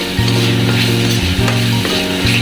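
Ginger garlic paste with fish masala, cumin and coriander sizzles loudly in a pan as local chicken is cooked, a steady close frying hiss broken by a few stirring scrapes.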